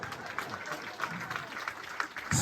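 Scattered applause from a comedy show audience, a thin clatter of clapping at moderate distance mixed with crowd murmur and talk, swelling slightly at the very end.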